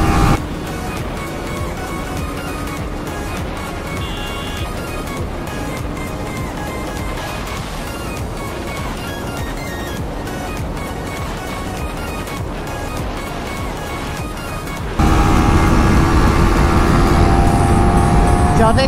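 KTM Duke 200 BS7 and Yamaha MT-15 BS6 motorcycles racing at high speed on a long run, with a steady loud engine drone and rushing wind that grow louder and brighter toward the end.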